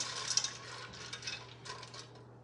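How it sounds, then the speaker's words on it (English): Gluten-free pasta being stirred into broth with tomatoes in a pot, with soft clinks and scraping of a utensil against the cookware, fairly quiet and close, with no talking. "And we're going to give that a stir."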